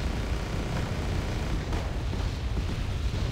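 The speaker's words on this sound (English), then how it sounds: "Now my mortars are coming in to dislodge these Spetsnaz" Mortar shells exploding in the war strategy game Wargame: Airland Battle, a continuous dense rumble of distant blasts and booms with no clear pauses.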